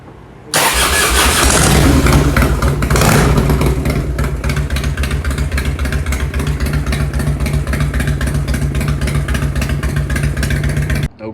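Harley-Davidson motorcycle, a 1989–2007 model with a rebuilt starter solenoid, cranks and fires right up, then settles into a loud, steady, close-up idle with a thumping, lumpy rhythm that runs to the end.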